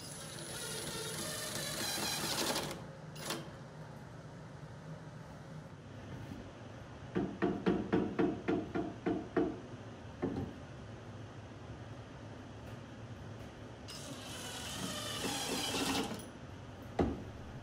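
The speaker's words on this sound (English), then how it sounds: "just screwing all the dividers into the places I marked out and pre-drilled in the face" Wooden dividers are screwed into pre-drilled holes in a DIY wooden storage cart, with a power driver whirring in bursts and a quick run of rhythmic ratcheting clicks in the middle, close and fairly loud.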